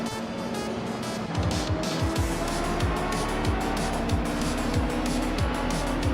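A 1989 Mercedes-Benz L500 races in a video game, its engine droning steadily with repeated sharp gear-change drops and revs, other cars roaring nearby, loud and continuous throughout.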